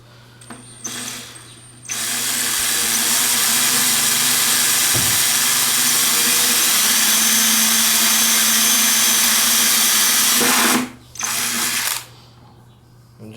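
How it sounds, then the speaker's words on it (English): A power drill spins up and runs at high speed for about nine seconds drilling holes in a board for brackets, loud and close, then cuts out, with a couple of short bursts around it. "I'm going to drill some holes for my brackets."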